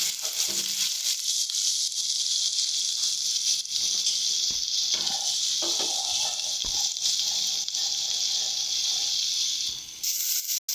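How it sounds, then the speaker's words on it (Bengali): Spice masala with ground coriander and salt sizzles and fries steadily in a pan, a dense continuous hiss with occasional stirring scrapes near the end. "দিয়ে ভালো করে এবার মশলাটাকে কষিয়ে নিতে হবে।"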